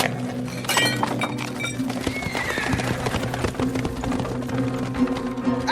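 Horses hitched to a wagon clop and whinny in a busy, loud scene, with clinks and knocks over a dense steady rumble of hooves and harness throughout.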